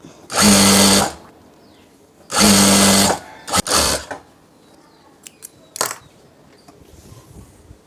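Sewing machine stitching a maxi dress: two loud, even bursts of rapid mechanical whirring about a second each, then shorter stitch runs and clicks of the machine being adjusted, close and alone.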